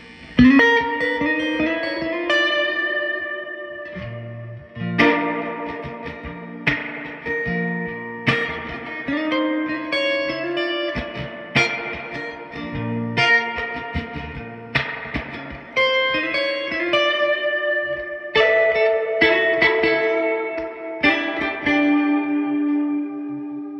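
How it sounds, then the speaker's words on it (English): Electric guitar chords and picked notes ring out through a 1968 Fender Twin Reverb amp with heavy reverb, each strum trailing a long, washy tail that fills the gaps between phrases. "That's a lot of reverb."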